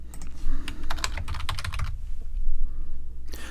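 Rapid clicking of keys on a computer keyboard, close and crisp in quick bursts with a short pause before a final keystroke, no voices.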